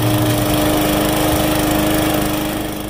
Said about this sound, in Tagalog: So, I decided to cut the grass para naman makapaglaro siya sa damuhan.